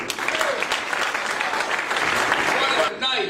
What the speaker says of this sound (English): Put your hands together for Bob Carroll.